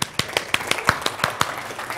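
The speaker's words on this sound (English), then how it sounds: "Round of applause for you." An audience claps at a presentation, sharp hand claps in a quick uneven run, close and fairly loud, with no talking over them.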